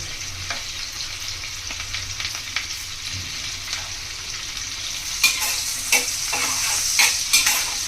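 Onions, green chillies and curry leaves frying in oil in a pan for a fish and brinjal curry, a steady near sizzle with occasional stirring scrapes that grow louder toward the end, no voices.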